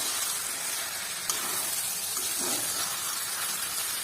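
Chicken pieces fry in oil in a pan over a high flame, giving a steady, close hiss and sizzle with a small crackle now and then.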